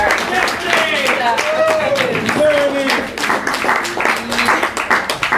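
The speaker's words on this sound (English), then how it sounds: "Let's have another round of applause for Stephanie's love here." Audience at a campus semester-end show claps and cheers, sustained close applause with whoops and a voice calling out over it.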